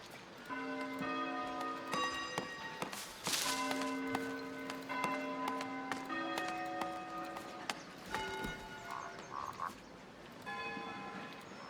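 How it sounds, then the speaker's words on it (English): Bells in the video game Foundation ring out as clear, sustained tones. Several overlapping strikes form a light melodic pattern with long, ringing decays, heard steadily and moderately loud against a faint ticking background. "Oh, we have so many different bells."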